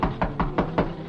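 Five firm knocks on a wooden door, evenly spaced in a quick steady rhythm, close and fairly loud with no voices.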